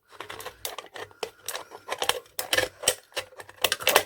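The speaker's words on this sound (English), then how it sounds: "I've got a pair of sharp scissors, they're not my normal crafting ones. I'll just put that through." Sharp non-craft scissors snipping through hard plastic, giving a run of close, crisp clicks and crunchy snaps in irregular bursts, with no talking.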